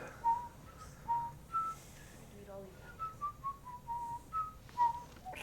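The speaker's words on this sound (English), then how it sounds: "don't get us kicked off of YouTube for whistling that" Someone whistles a short tune nearby, a string of clear separate notes rising and falling, fairly soft against a quiet background.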